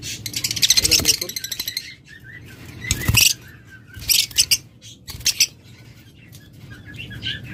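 Lovebirds at a bird farm in Bangladesh let out sharp, high chirps and squawks in quick bursts, with fluttering wing flaps between the calls, close and fairly loud.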